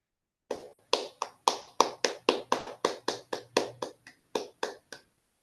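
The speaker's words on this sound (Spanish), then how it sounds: "podemos agradecer a Cecilia con un fuerte aplauso virtual esta vez" About fifteen distinct, sharp hand claps in a steady rhythm, like a single person clapping near a microphone during a virtual seminar; each clap is crisp and separate, with no talking over it.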